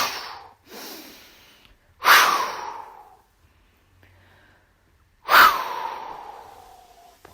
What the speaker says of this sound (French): vous allez augmenter votre tonus de 3 respirations plus